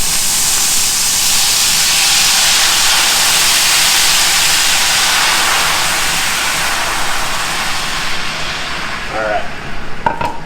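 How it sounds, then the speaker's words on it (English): Cold white wine hits hot oil in a pan, producing a loud, broad sizzling hiss that swells then gradually fades, with brief clatter and a faint voice near the end. "as you add this wine, guys, stand back a little because you have cold liquid hitting hot oil"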